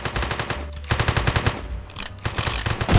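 Automatic gunfire rattles in rapid, loud bursts in the video game One Armed Robber during a jewellery store robbery. Short pauses break up the rhythmic volleys, which come close and alone with no talking.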